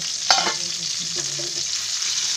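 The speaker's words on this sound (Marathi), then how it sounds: "आता झाकण खोलते आणि ते फिरवते." Chicken and ash gourd pieces fry in a covered pan; a lid clatters open, then soft scraping and sizzle as the pieces are turned one by one, close and alone.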